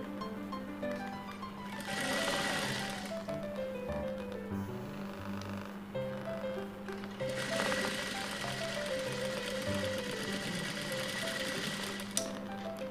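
A sewing machine runs steadily, stitching along the folded edge of a blouse, its close, even whir swelling and easing in rhythmic bursts for the whole stretch with no voices.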